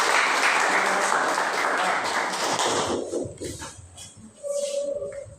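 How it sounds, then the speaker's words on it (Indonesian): Applause for the first group breaks out as a dense burst of clapping for about three seconds, then thins into scattered claps and quieter room noise. "Yuk, boy, tepuk tangan dulu untuk kelompok 1."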